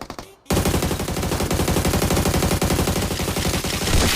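Rapid automatic gunfire from the mobile shooter game Peace Elite erupts after a brief quiet start, a dense, loud burst of fire that continues without a break to the end.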